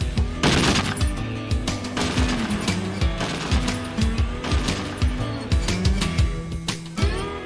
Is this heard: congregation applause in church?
no